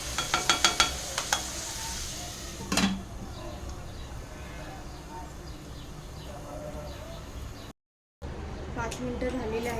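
A pan of tomato simmers under a lid while being cooked down soft for a dhaba-style egg masala. A few quick clinks of utensils come at the start, then a faint, steady sizzle continues with a brief dropout near the end.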